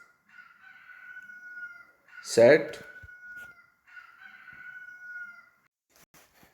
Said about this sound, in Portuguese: Deu uma pausinha aqui no vídeo porque um galo apareceu aqui do nada